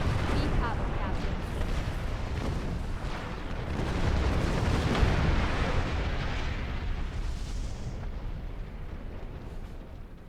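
A starship explodes in Star Trek Online with a long, rumbling roar of blast and debris that swells and slowly fades, loud and continuous, with talk over it.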